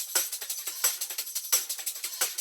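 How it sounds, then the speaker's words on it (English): A high-passed hyperpop drum loop treated with chorus gives quick, airy hits a swirling, lasery swoosh; the pattern is thin and bright, with no low end, and repeats steadily at a fairly quiet level with nobody talking. "This adds like some weird lasery, like swooshing sounds."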